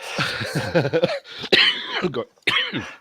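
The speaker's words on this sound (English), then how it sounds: "There you go, you're coughing now." Someone coughs and clears their throat several times in rough, breathy bursts, close up, with brief pauses between them.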